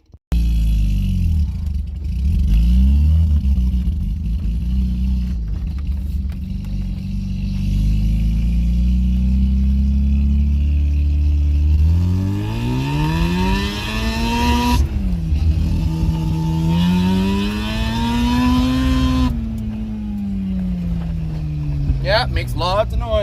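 Ford Ranger pickup with a swapped Mazda RX7 rotary engine and 4.56 rear gears, driven on a test run: a loud, steady engine drone that revs up in rising sweeps, drops and climbs again, with a voice briefly over it.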